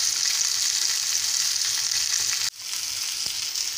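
Fish pieces fry in hot oil with a steady, dense sizzle that drops away briefly partway through and then resumes, with no talking.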